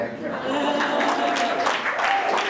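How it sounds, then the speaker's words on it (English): A crowd at an evening entrepreneurship networking event claps for Jack, a supporter, in a soft, fairly distant patter of applause with a murmur of voices mixed in. "we have to clap for Jack as well"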